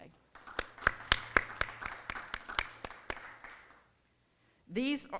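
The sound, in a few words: applause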